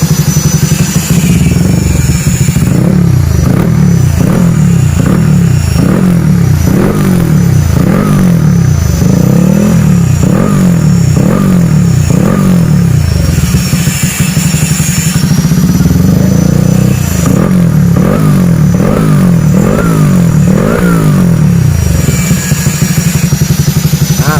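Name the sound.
motorcycle engine revving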